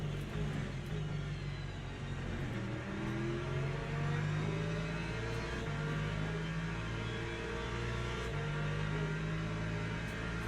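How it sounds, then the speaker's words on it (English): LMP3 prototype race car engine in Le Mans Ultimate, a sustained high-revving drone with shifting pitch as the car holds speed, steady and close with no voices. "Oh, where did this LMP3 just appear from?"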